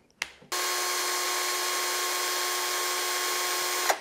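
A cheap cordless drill runs in second gear, a steady high-pitched motor whine starting abruptly after a brief click and holding constant for several seconds, close and alone.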